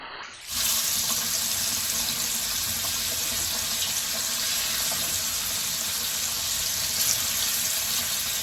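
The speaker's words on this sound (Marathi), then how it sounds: "आता मी तवा ठेवते आणि मच्छी फ्राय करून घेते" Fish frying in a hot pan, a loud, steady, broadband sizzle that starts abruptly and holds constant without pause, with no talking.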